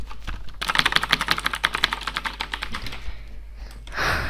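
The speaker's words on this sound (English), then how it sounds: "And this is the sound of my keyboard." Close rapid typing on a computer keyboard, a quick run of sharp clicky keystrokes for about three seconds, then a pause and a short soft rustle.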